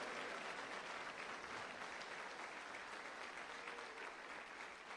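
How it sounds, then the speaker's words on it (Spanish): A church congregation at a Spanish-language evangelical service keeps up steady applause for about five seconds. It sounds fairly distant and even throughout, with no speech over it. "Démele otro aplauso a nuestro Señor."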